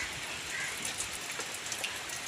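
Continuous rain during the monsoon in the Konkan, heard from a house below the road, a steady even hiss of falling drops with faint spatters on surfaces throughout, no talking.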